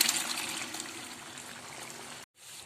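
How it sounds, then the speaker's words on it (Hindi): Boiled chana dal with its broth is poured into a pot, making a steady liquid splashing and trickling sound that runs for about two seconds and then cuts off. "ये जो हमने चने की दाल बॉयल की थी, इसको इस चने की दाल की जो थोड़ी सी यखनी है इस समीत ही हम इसमें डाल देते हैं"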